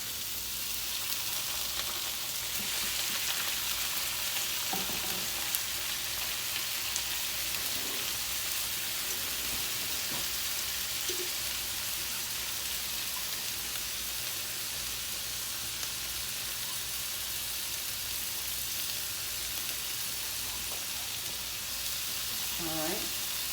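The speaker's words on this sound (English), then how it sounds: "At this point, I'm gonna go ahead and add my rice." Rice hits a hot pot of oil and butter with a steady, soft sizzle and crackle that runs the whole time, with occasional faint clinks and a voice now and then in the background.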